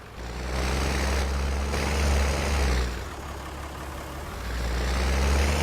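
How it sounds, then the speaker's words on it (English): A noisy tractor engine in Farming Simulator 19 rumbles to life and settles into a loud, deep idle with a steady low drone, dipping briefly midway before swelling again. "Let's start up our noisy tractor."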